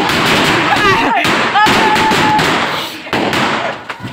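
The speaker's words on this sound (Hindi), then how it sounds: "किस तरीके से पटाखे फोड़ते हैं ये आपको दिखाएंगे" Firecrackers burst outdoors during Diwali celebrations, a few sharp cracks and thumps standing out over a constant noisy crowd and background din, with some whistling tones in between.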